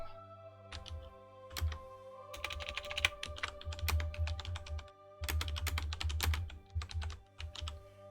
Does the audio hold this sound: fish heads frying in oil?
no